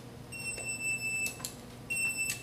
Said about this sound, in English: If I walk away from you, you should hear a beeping sound.